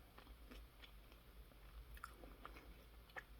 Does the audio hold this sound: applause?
no